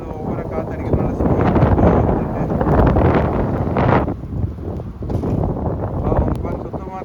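Strong wind roars and buffets the microphone during a heavy snowstorm in Toronto, Ontario, loud and gusting throughout, easing briefly before picking up again.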